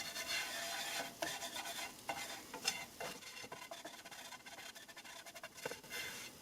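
Flour for a fettuccine Alfredo sauce cooks in a hot pan while a utensil stirs it continuously, giving a close, bright scraping and a soft sizzle with small irregular knocks against the pan. No voices.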